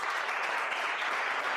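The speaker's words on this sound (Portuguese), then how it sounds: "Se você entendeu, dê uma salva de palmas" Congregation applause at a church service, a dense, steady wash of many clapping hands filling the whole stretch at an even, moderately loud level with no talking.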